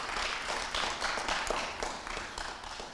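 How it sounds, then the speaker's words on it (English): An audience at a drama workshop's 50th anniversary and proclamation ceremony in Peekskill applauds, a dense, steady wash of clapping that runs through the whole stretch at moderate volume without any voices over it. "Let's give her a round of applause."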